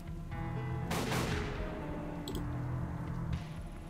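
A single sharp gunshot in the video game Dark Tokyo, fired at a locked door lock, cracks out over a quiet, humming game background, followed by a brief metallic clink.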